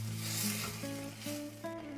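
A quiet, steady sizzle of a tomato mixture for Mexican rice frying in a pan, with a soft stirring hiss and a faint hum underneath.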